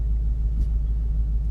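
A Ford Mustang's engine runs in first gear with a low, steady rumble, loud and close from inside the car, alone without any talk.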